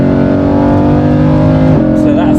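A Lamborghini Huracan V10 on its stock exhaust, driving in normal mode, gives a loud, close, steady engine drone that holds one pitch and dips briefly near the end.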